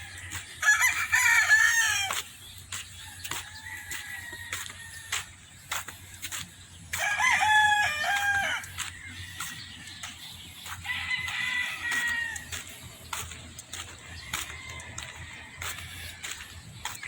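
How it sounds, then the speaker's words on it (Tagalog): Fighting roosters at a nature spring resort crow loudly in long repeated calls, some nearby and some farther off, with clucks and faint background noise between the crows. "daming mga manok na panabong dito guys sa Nature Spring Resort."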